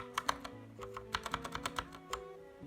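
Typing on an AG109R mechanical keyboard, a string of crisp, uneven key clicks in quick bursts with short pauses, close and fairly quiet over a faint electrical hum.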